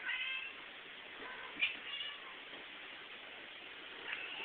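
A cat meows from a television, thin and faint behind a steady hiss, with one brief sharper cry partway through.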